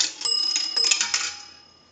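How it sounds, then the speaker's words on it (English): A dime drops into a three-slot 233G payphone and trips its internal bell, a close metallic clatter with bright bell tones that ring out and then fade. "We're going to use a dime. That'll ring the bell twice."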